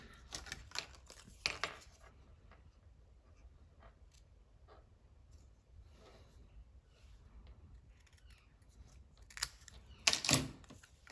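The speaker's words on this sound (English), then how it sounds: "just going to cut that with my scissors" Scissors cutting card paper for a handmade card, a few faint quick snipping crunches in a quiet room, clustered near the start and end.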